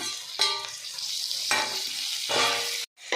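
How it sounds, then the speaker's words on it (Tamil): Tomatoes with coriander and mint sizzle in a pan for biryani, a constant close frying hiss punctuated by a few louder bursts of stirring and crackle. "இப்போ இதோட தக்காளி சேர்த்துக்கலாம்."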